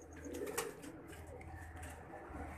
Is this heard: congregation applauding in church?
no